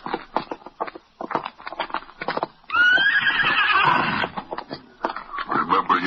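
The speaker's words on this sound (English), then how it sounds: "Let's get to our horses." Horses clip-clop with quick, close hoofbeats, then one lets out a loud, drawn-out neigh in the middle before the hoof patter resumes; voices are faintly mixed in.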